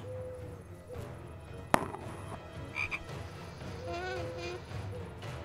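Cartoon frog in the Polda 7 adventure game croaking after being pumped full of hydrogen, a series of wobbly, comic croaks over background game music and noise, with a sharp click partway through.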